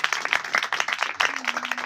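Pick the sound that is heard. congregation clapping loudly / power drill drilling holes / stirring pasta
congregation clapping loudly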